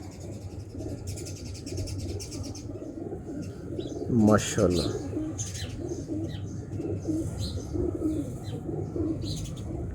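Breeder pigeons at a fancier's loft give soft repeated coos with scattered chirps and wing sounds, while someone talks over them throughout.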